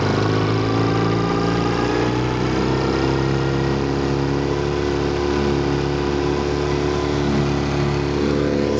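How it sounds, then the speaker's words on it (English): A 1933 Johnson A-65 4.1 hp outboard motor runs steadily at idle for the whole stretch, loud and close, with a smooth, even drone that edges up slightly as the throttle opens. No one talks. "So much smoother than the opposed motors. Idles beautifully, throttles up very nicely."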